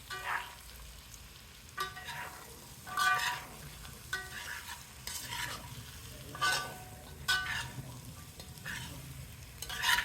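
Fried small fish tossed with dry masala in a pan, a spatula scraping and turning in repeated bursts over a faint background sizzle, close and fairly quiet.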